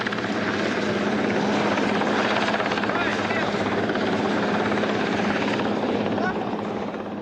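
A military helicopter hovers beside a naval frigate's deck during in-flight refueling, its loud, continuous rotor and turbine roar filling the scene at close range, with a steady rhythmic beat throughout.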